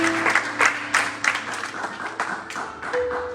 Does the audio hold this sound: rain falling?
no